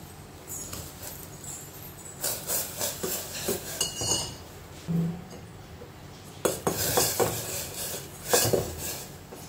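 A metal spoon scooping butter for butter coffee, giving a series of soft clinks and scrapes against a dish, irregular and close.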